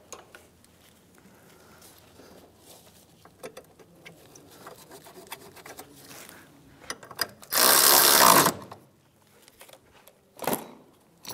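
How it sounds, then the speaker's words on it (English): A torque wrench tightening a bolt on the power steering pump of a 2007–2013 Acura MDX: soft mechanical rattles and clicks, then a loud, dense ratcheting burst lasting about a second, followed by a brief shorter burst near the end. "now we can go ahead and torque this down"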